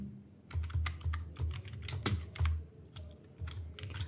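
Computer keyboard typing while entering text in an Excel spreadsheet, a quick irregular run of soft clicks and taps, close and fairly quiet, with no talk.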